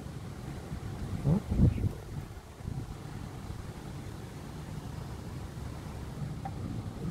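Strong storm wind roars in steady gusts through tree branches and leaves, loudest early on with a short spoken exclamation, then a continuous blustery rush.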